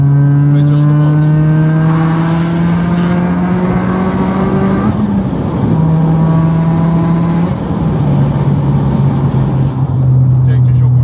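An Audi A4 B6 1.8T, tuned past 400 horsepower, drones loudly with its exhaust valve open. The deep, buzzy engine tone holds steady, then steps up and down in pitch as it revs close by.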